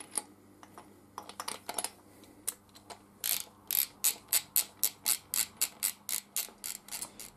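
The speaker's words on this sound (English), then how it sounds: "So we want a deep socket, small extension bar, and we're going to put the nut inside the socket first of all." A ratchet wrench with a deep socket and small extension tightens a nut on an MG42 smartgun conversion kit grip, giving a few scattered clicks, then a steady run of sharp, close ratcheting clicks at an even rhythm.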